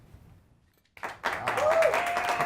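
Studio audience applause on a television cooking show breaks out after a second of near silence, swelling quickly into sustained clapping with voices over it.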